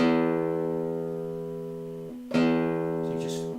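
A low E guitar string rings and slowly fades, then gets plucked again and sustains, with a faint brush of noise near the end.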